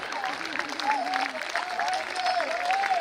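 An audience at a Hindi poetry recital applauds steadily, a dense, even patter of claps throughout while a voice sings or speaks over it.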